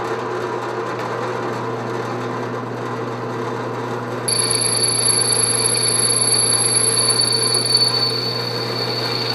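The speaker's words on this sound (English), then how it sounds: "I'm just going to go ahead and drill this hole" A power drill whirs steadily drilling a hole in a router table, its high-pitched whine rising partway through as it bites in, running continuously without voices.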